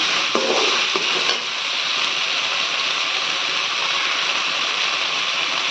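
Ginger and garlic sauté in a pan for a country chicken gravy, giving a steady, close sizzling hiss with a few stirring scrapes near the start.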